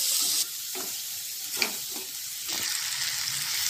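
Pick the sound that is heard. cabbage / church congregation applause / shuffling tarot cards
cabbage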